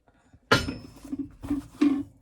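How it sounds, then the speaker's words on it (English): A glass dish is set down and slid into a microwave with pot holders, giving a few close clinks and knocks with faint rattles between them. "So we're going to use the pot holders to put the dish"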